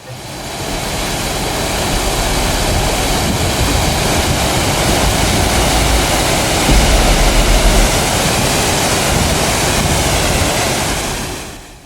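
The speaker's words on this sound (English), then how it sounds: "the valley was filled with the sound of rushing water" Rushing water fills a still mountain valley under low autumn cloud, a loud, steady broadband roar that carries unbroken for about twelve seconds with no voices.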